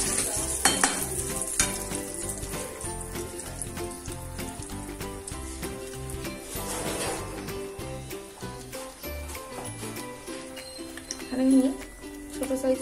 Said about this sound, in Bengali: কালো জিরেটাকে 5 সেকেন্ডের মতন এটাকে হালকা করে একটুখানি নাড়িয়ে নিয়ে